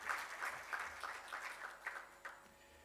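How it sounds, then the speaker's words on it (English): Audience applause at a content moderation symposium, a short burst of scattered clapping from a modest crowd, fairly soft and slightly uneven in rhythm. "Can I get another loud hand clap for our Mugaga of the day?"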